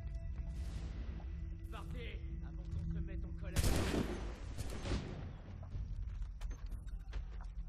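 Gunfire in Assassin's Creed III: a loud burst of shots around the middle, with a sharp crack and a fading rumble and clatter, set over a busy game background of steady low hum and scattered noises.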